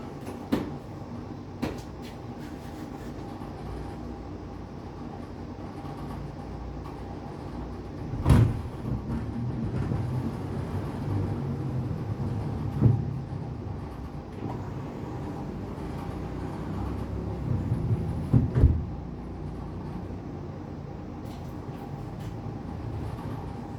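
A Mercedes 300SD sunroof slides along its track with a low, steady grinding hum, punctuated by a few soft clunks as the panel moves and stops, with no talking.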